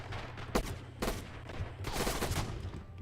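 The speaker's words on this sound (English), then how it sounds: "Right there he has LMG, light machine gun." Light machine gun in Rising Storm / Red Orchestra 2 fires several short, close bursts with uneven gaps over steady game background noise.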